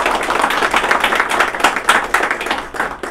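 Applause from an audience welcoming Ganoderma, a steady patter of many hands clapping close and fairly loud, rising and falling slightly throughout.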